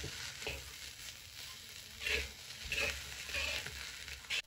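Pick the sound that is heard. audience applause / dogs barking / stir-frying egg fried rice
stir-frying egg fried rice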